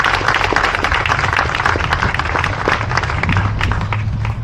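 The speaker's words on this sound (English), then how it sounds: "So I want to give him a round of applause and thank him" A crowd at a July 4 time capsule ceremony in Westerly breaks into applause, with many hands clapping in a dense, lively patter that holds steady and close for several seconds.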